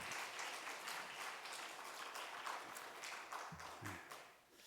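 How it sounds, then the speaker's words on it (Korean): Faint, distant applause from a church congregation during an afternoon service in Daegu, Korea, a dense steady patter of many hands with a brief low voice near the end. "우리 방금 나오신 분들 다시 한 번 더 박수 한번 드릴까요?"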